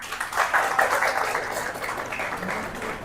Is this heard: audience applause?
yes